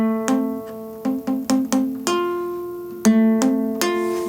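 A strummed guitar chord repeats in a loose rhythm, each strum ringing out clearly with the muted second string sounding dead and choked.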